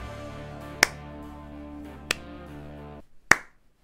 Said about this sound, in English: Are you clapping? I am.